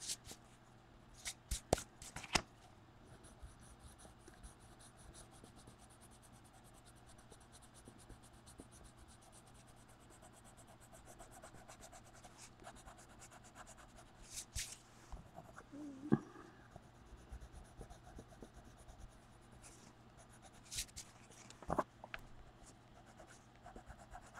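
Colored pencil drawing and blending on paper in a sketchbook, shading flowers: quiet, continuous scratchy strokes and rubbing, with a few sharper taps and scrapes scattered throughout.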